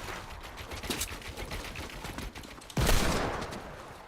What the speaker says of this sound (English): There's shots people, near me.